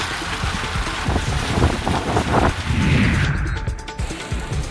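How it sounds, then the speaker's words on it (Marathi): Strong stormy wind with rain hits a microphone outdoors in Kalyan-Dombivli, sounding as steady loud roaring buffeting with gusts and clattering bumps throughout. "कल्याण डोंबिवलीमध्ये वादळी वाऱ्यासह पावसाला सुरुवात झाली आहे।"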